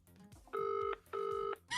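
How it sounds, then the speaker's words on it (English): A telephone rings with an incoming call, two sustained electronic trill bursts of about half a second each with a short gap between, loud and close, with a third starting at the end. "God, he's phoning me again."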